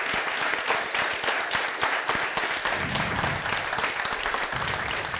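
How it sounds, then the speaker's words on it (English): A startup event audience in Gothenburg claps loudly and steadily throughout, a dense sustained round of applause without voices standing out. "would love to have a massive round of applause"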